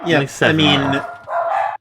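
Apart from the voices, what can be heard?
dogs barking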